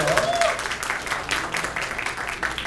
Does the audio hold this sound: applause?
yes